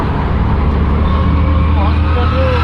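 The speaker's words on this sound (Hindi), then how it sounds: "ये देखिए बसेस आ रही है कॉलेज की" College buses pass in road traffic near a university, a dense rumble of engines and road noise that stays loud and steady the whole time.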